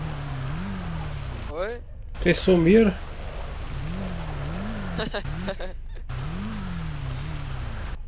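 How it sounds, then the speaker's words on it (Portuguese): Steady rain hisses in the GTA 5 roleplay game, a constant wash under a car engine rising and falling, with someone speaking Portuguese briefly over it. "Eu vou me sair da chuva aqui"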